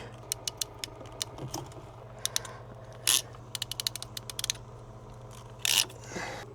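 Clamps are ratcheted tight on plumbing pipe: quick runs of sharp mechanical clicks with a couple of louder rasping bursts between them, close up, over a low steady hum, with no talking.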